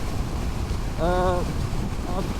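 Steady wind roars and buffets the microphone throughout, with a brief tonal whine rising out of it partway through.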